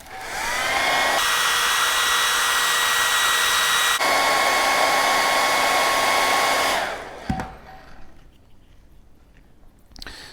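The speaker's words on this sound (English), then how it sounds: "if we can give them a bit of a burst with a hairdryer" A hair dryer blows with a loud, steady whirring roar for about seven seconds while fitting Flexifelt Clears chair-leg covers, shifting speed twice, then clicks off, leaving quiet handling noises.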